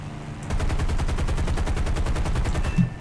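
Aircraft machine guns fire a rapid, continuous burst during a World War II dogfight in War Thunder, loud and close, running for a few seconds with a brief thump near the end.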